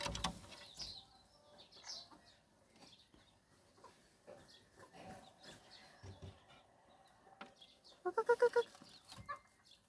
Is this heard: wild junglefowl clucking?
yes